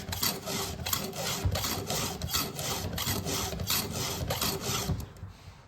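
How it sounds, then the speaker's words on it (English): Rhythmic rasping strokes of a round file sharpening a chainsaw chain tooth, about a dozen quick, close scrapes in steady succession, gritty and metallic, fading out at the end. "This flat file, or this round file is really nice. It's grabbing really good."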